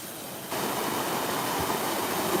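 Steady, loud rush of a waterfall at Anakeesta in Gatlinburg, Smoky Mountains, Tennessee, a broad continuous roar that swells in after a brief quieter moment and holds evenly without talk.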